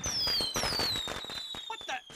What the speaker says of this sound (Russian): Нелегальные петарды.